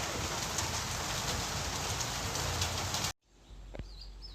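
Steady broadband rain pours on a surface for about three seconds along a trail shelter, then cuts off abruptly, leaving a quiet scene with a faint bird call.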